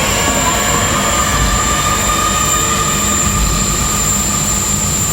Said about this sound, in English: Right from the get-go, noisy, dirgy death industrial is being presented